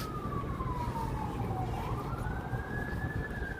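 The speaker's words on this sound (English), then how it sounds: "There's a siren." A siren wails steadily, its pitch sliding down and then rising again, loud and fairly close over a constant low rumble of traffic.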